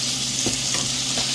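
A pound of ground beef sizzles and fries steadily in a pan while being stirred, a loud, continuous hiss with soft scraping, close up and free of talk.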